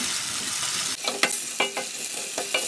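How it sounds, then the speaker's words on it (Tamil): Onions and tomatoes sautéing with salt in a pan give a steady sizzle, broken by several sharp clinks and scrapes of stirring, close and alone. "இப்போ இது நல்லா வதங்கிறதுக்கு கொஞ்சம் உப்பு சேர்த்துக்குவோம்."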